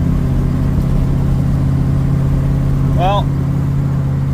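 A 1972 Ford Mustang Mach 1 under restoration drones along at a steady, low rumble on a winter drive, with a person speaking briefly over the engine.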